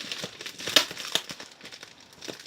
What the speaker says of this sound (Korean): 뜯어볼게요, 한번.